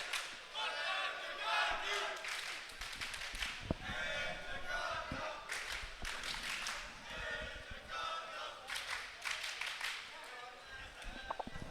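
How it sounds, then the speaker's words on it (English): A tournament crowd at an RO16 match of COE2022 chants in support of the player angelkanna, a loud, sustained mass of voices with rhythmic shouts and thumps running throughout. "Angelkanna chants in the crowd."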